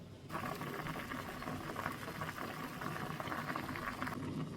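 Vegetables with tomato, garlic, onion, pepper, cumin and salt boiling in a pot for soup, a fairly quiet continuous bubbling patter that starts abruptly and runs evenly without any voices.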